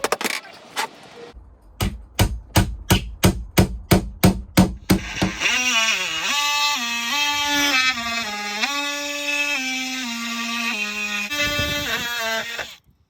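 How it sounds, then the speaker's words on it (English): Nails are hammered through pilot holes into tongue and groove boards on a Shetland 570 boat's new cockpit seating: about a dozen sharp, evenly spaced, close strikes, after which music takes over. "all we're doing is we're pilot holing it, nailing it on"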